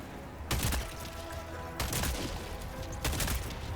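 Helldivers 2 combat: a dense, continuous wash of gunfire and rumble, punctuated by three sharp, loud blasts at regular intervals, with no talking over it.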